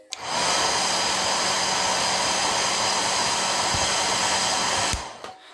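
A hair dryer blows steadily and loudly for about five seconds, drying out a 22-year-old Hasbro Star Wars Naboo Royal Starship toy vehicle, then cuts off.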